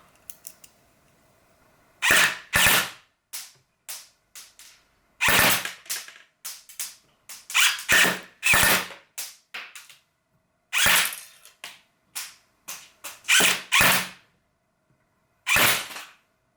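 Airsoft electric pistol firing 0.25 gram BBs, sharp snappy shots in short irregular bursts and singles with brief pauses between, loud and close, no talking.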